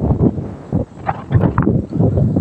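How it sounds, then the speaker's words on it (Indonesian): Strong wind at Stone Garden buffets the microphone in heavy, gusting rumbles that swell and drop irregularly, loud and close, with no talking. "Ngeri anginnya kenceng banget, takut ke bawah angin"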